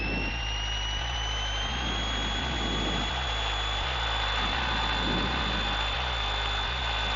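A light training aircraft's piston engine runs steadily at fixed throttle during a pre-flight run-up, a loud continuous drone with a rising whine and a faint rhythmic pulsing.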